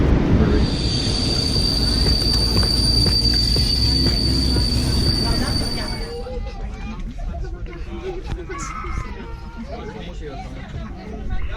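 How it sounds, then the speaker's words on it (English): A train rumbles and squeals on the rails with a high whine amid station noise and crowd chatter at Hamburg Central Station, then quiets to softer background bustle and voices. "This is the Hamburg Hauptbahnhof, or Central Station."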